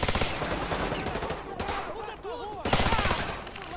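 Pistol fire in the Call of Duty: Modern Warfare 2 campaign remastered, several sharp, fast shots and bursts of gunfire with a voice talking over it at times.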